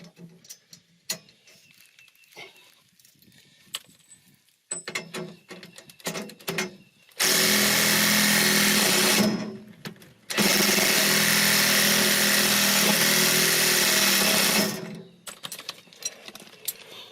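A mobile home ground anchor is twisted into the ground by a loud power tool in two sustained whirring bursts, with scattered clicks and handling noises before and after.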